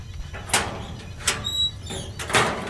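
A door opens in the horror video game Inside the Backrooms, with three short scraping, rattling bursts spaced about a second apart over a low, quiet ambient hum.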